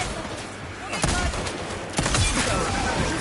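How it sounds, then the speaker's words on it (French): Dense automatic gunfire crackles continuously in the video game Highguard, sustained loud bursts firing at enemies, with a sharp surge of shots about one second in and another near two seconds. "tire sur nos ennemis"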